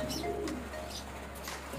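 A racing pigeon, an old bird with pearl eyes, gives a soft, close coo against a steady low background hum.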